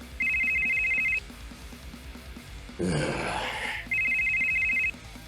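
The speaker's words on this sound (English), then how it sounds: "So, Loki, your phone is going off." A mobile phone ringtone trills in two bursts of about a second each, a bright repeating electronic ring, with a breathy gasp or sigh between them over faint background noise.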